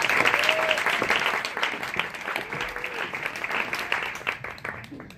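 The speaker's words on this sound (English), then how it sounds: "So if you could give a round of applause to Angelina as she comes up" An audience at a beginner's digital marketing talk applauds as a speaker comes up, dense clapping that starts strong and slowly thins out over a few seconds, with faint voices mixed in.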